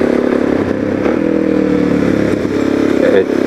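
A Suzuki DR-Z400SM motorcycle on a test ride after suspension adjustments, its engine droning steadily up close with a faint clatter and light scraping throughout.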